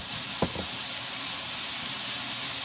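White onion and peppers sautéing in a pan over medium-high heat give a steady, close hiss and sizzle, with one brief clatter near the start.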